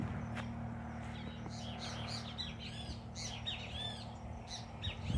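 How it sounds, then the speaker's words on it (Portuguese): Small birds chirp and trill repeatedly in desert scrub, several bright overlapping calls at moderate distance over a steady low background hum. "Aí você vê só o canto do passarinho"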